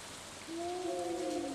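Steady hiss of rain in the Stardew Valley video game, broad and even throughout, joined midway by a sustained tonal game sound that holds to the end.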